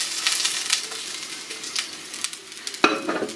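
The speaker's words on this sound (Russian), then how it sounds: "прямо здесь на этой же сковородке будем обжаривать грибы" Mushrooms fry in an oiled pan just used for chicken, giving a steady close sizzle and crackle with occasional stirring scrapes and one sharp clack near the end.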